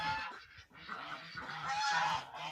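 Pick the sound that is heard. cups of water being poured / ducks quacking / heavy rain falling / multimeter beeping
ducks quacking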